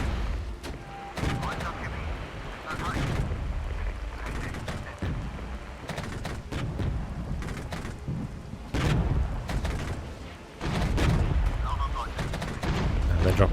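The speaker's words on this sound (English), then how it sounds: "let's artillery strike these" An artillery strike in the Regiments video game during a night battle: a string of heavy booming blasts and crackling bursts at uneven intervals, some very loud, over continuous battlefield rumble.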